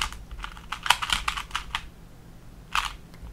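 Typing on a computer keyboard to enter times into a CS Timer cubing session: a close, quick run of light key clicks for about two seconds, a pause, then one more short burst of taps.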